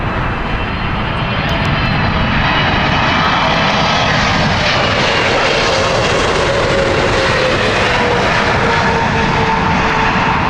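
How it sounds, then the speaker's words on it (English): An Asiana Airlines Airbus A350-900 arriving at Heathrow Airport in crosswinds, a loud, continuous jet engine roar with a faint descending whine, close and steady throughout. "This is the Airbus A350 coming in from Seoul."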